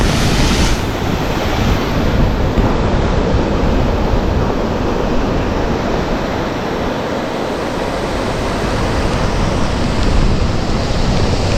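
Loud, steady roar of rushing water pouring through Thumboormuzhi dam, a dense broadband wash that fills the whole stretch without pause, heard up close with no talking.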